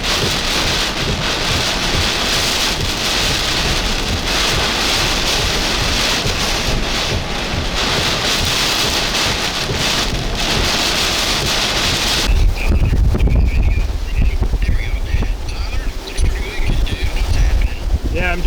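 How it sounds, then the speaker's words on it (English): Intense hurricane wind and heavy rain from Hurricane Beryl on the Texas coast near Matagorda, a loud continuous roar of wind gusts and pounding rain that grows heavier and deeper partway through, with buffeting against the microphone. "It's an intense wind one."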